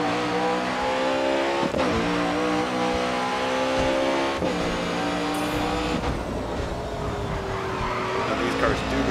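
Race car engines from the Grid Autosport video game rev and shift gears in a street challenge, with tire squeal on a corner, loud and continuous under someone talking.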